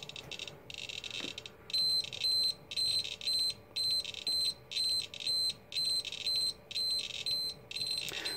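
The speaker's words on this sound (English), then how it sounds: "So this is the alarm, and it's actually a latching alarm" A Canberra ADM-300 radiation survey meter's latching alarm sounds a rapid, repeating high-pitched electronic beep in regular pulses, steady and close, for several seconds.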